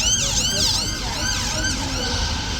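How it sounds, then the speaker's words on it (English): An ambulance siren passes near Horse Guards in London, loud and close with repeated rising-and-falling wails over steady road traffic noise. "Now we've got an ambulance."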